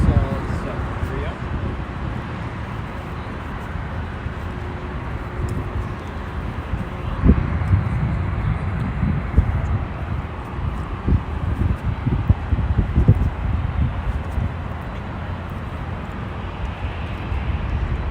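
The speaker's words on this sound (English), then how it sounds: "we have an Asiana Airbus A350-941 on its way back to Seoul, South Korea." An Asiana Airbus A350-941 airliner at Los Angeles International Airport gives a broad, steady jet rumble that swells midway and lingers, heard at a distance over wind buffeting the microphone.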